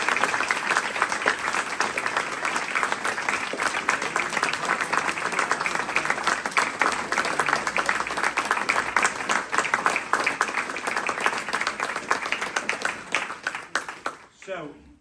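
An audience at a martial arts instructor promotion ceremony breaks into loud, sustained applause for a master instructor, holding strong before fading out near the end.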